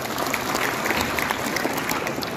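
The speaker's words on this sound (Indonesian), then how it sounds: "Kita aplaus kepada Pak Lutfi." Audience at a political gathering applauding for Pak Lutfi, a candidate for governor, a dense, continuous patter of many hands clapping from a crowd, steady and loud throughout, with a faint voice underneath.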